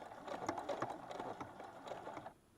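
A sewing machine stitches quilt binding in short, uneven bursts of needle chatter, close and fairly quiet, pausing briefly before falling silent.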